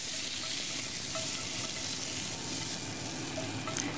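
Knödli dumplings frying in a full pan in a farmhouse kitchen, a steady, fairly quiet crackling sizzle that goes on evenly throughout with no talk.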